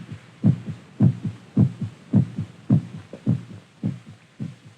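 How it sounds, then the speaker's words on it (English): A human heart beats in a strong, regular lub-dub rhythm, about eight clear low thumps in quick succession, close and prominent over a faint hum. "The sound of our heart pounding against our ribs."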